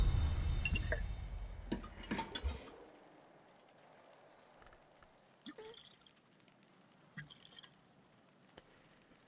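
In the video game Book of Hours, liquid pours and splashes briefly at the start, followed by a near-silent stretch broken by a few faint, scattered drips and soft taps.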